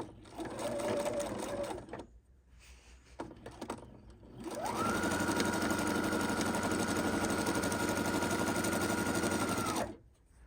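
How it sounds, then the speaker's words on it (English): A sewing machine runs a short burst, stops, then runs a long steady stretch of about five seconds while stitching a straight seam on the outside of a lined tote bag with gussets. The motor whirs loudly and close. "Now we're just going to sew a straight line down here and a straight line down here."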